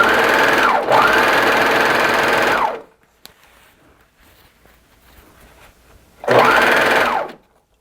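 A sewing machine runs fast while attaching elastic to a leotard, two loud close bursts of whirring stitching, each speeding up and slowing, separated by a quiet pause with faint handling noises.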